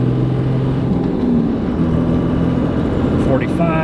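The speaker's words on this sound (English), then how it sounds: "We'll go 3rd gear pull just like last time." A 3-linked 1-ton Land Cruiser pulls hard in third gear on a highway, its engine droning loudly and steadily with rising tone throughout, close and continuous.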